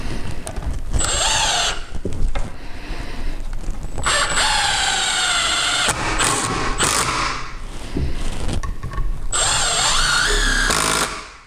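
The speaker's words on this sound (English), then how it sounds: "The drill doesn't slip." A power drill drives Torx-head screws into a workshop bench being built for a reloading press, with several loud bursts of whirring spin that rise and cut off, separated by short pauses and handling noises.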